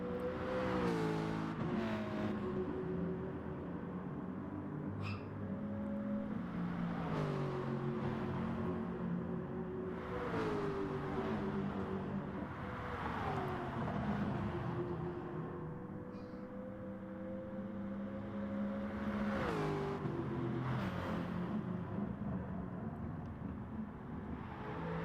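A race car engine in Gran Turismo Sport roars continuously through a manufacturers race at St. Croix, revving up through gears with repeated downshift drops and rises, loud and unbroken with no voices.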